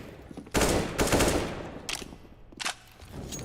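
AK rifle fire from a CS:GO match comes in short, loud automatic bursts, two long bursts followed by quicker shorter ones, standing mostly alone with little talk.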